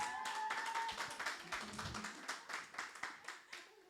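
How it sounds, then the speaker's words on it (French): A small church congregation claps during a Sunday service, a quiet scattered patter of hands heard from a distance that thins into a few separate claps. "Applaudissons pour elle."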